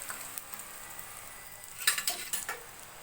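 Tempering is poured into doddapatre leaf chutney, a few faint clinks and short crackling sizzles near the end against a quiet kitchen background.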